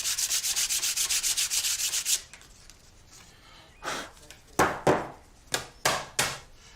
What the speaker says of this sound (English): Just going to get a bit of sandpaper